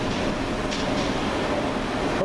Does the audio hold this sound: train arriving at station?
yes